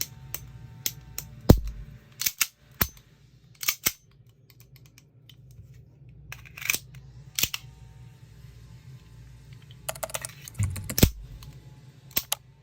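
Sharp mechanical clicks from a Springfield Armory 1911 Garrison pistol being function-checked after reassembly. About a dozen crisp, close snaps come in loose clusters with brief quiet gaps between them, and no talking.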